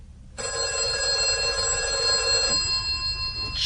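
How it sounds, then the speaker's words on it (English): A telephone bell rings loudly and steadily after a short quiet start, a sustained bright ringing with a faint low background rumble and no talk. "The phone rang at 6:30."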